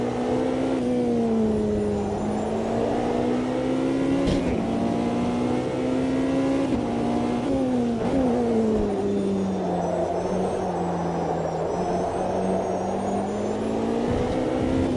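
Race car engines in the Automobilista 2 sim racing game drone loud and continuous, pitch rising and falling through gear changes and throttle lifts, with faint other cars nearby.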